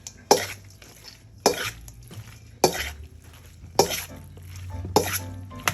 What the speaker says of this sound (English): let me get my big mixing spoon, and let's kind of mix that around a little bit.